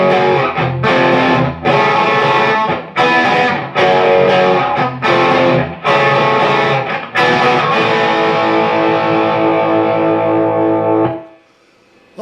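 Heavily distorted electric guitar plays a riff as loud, sustained power chords with short choppy breaks, then a final chord rings out and cuts off near the end.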